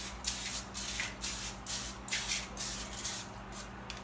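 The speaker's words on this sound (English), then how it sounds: "I spray them, so of course, so they don't stick. So just a little spray." Cooking spray misted into the cups of a muffin tin in short hissing bursts, about eight quick sprays in a steady rhythm, close and fairly loud with no talking.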